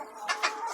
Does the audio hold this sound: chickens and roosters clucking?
yes